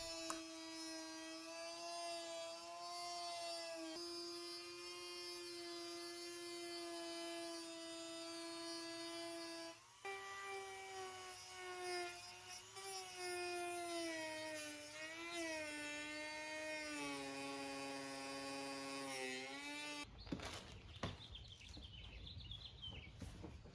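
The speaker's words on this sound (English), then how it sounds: "I'm using a Dremel and I'm cutting along the line I just made" Dremel rotary tool cuts a plastic bumper cover on a 2020 4Runner TRD Pro, a steady high-pitched whine that shifts in pitch as it bites, ending in a brief harsh burst.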